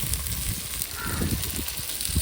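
Tomatoes hit frying onion masala in a pan, giving a steady, moderately loud sizzle and crackle with soft bubbling pops throughout.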